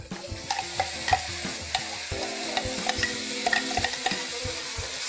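Masala paste with browned onions sizzles and fries in a pan over medium flame while a spoon stirs and scrapes at a steady pace, close and fairly quiet, with no talking.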